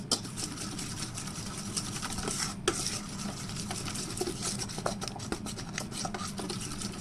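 Chicken marinade with lemon juice, turmeric and chili powder being stirred in a bowl, a close, continuous wet rubbing and scraping with occasional sharper clicks of the utensil, steady throughout.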